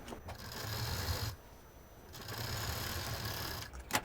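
Sewing machine stitching fabric face-mask pieces together, a steady low mechanical whir running in two bursts with a short pause between them, moderately quiet and with no talking.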